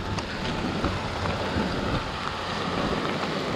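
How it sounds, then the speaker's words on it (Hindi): Heavy rain pours down steadily, a dense, loud, unbroken roar of drops with a low rumble underneath, on a mountain trek to Neel Farri in Haveli District, Pakistan. "ये हालत है इस वक्त बारिश की"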